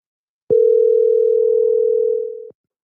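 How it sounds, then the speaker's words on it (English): A single steady telephone tone on an outgoing call, lasting about two seconds at an even pitch and fading slightly at the end, loud and clean with silence around it. "Still ringing."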